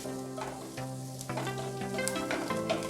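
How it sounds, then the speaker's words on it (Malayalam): Onions frying in a pan and being stirred, a quiet sizzle with light scraping, fairly faint and close, while a low tonal hum runs underneath and no one speaks. "ഇനി ഒരു ലൈറ്റ് പിങ്ക് കളർ വരണം, ലൈറ്റ് റോസ്, അതുവരെ ഇളക്കാം."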